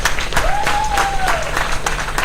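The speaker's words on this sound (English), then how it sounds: "Let's give her a round of applause." Audience at an international conference applauds a woman called to the front, dense close clapping for a couple of seconds with a faint whistle-like tone gliding through the middle.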